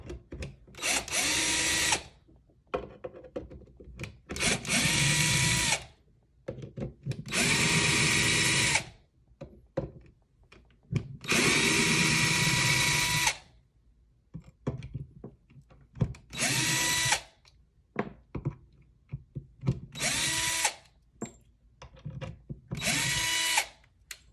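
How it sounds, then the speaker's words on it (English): Power drill driving screws into the neck of a Peavey Patriot guitar, heard as about seven loud, close bursts of whirring motor a second or two long, separated by short quiet gaps. "come in and just finish it off with the drill"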